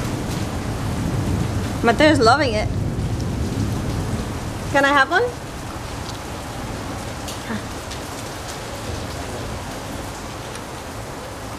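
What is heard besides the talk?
summer thunderstorm with rain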